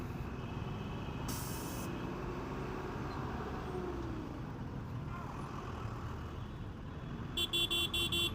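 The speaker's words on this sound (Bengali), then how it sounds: "গাড়ির হর্ন" Kolkata street traffic in a jam, with a constant low rumble of engines, one brief high blast early on and a rapid, pulsing horn beeping near the end.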